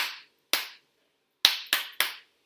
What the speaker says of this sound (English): then I paused, and then I did 3 claps together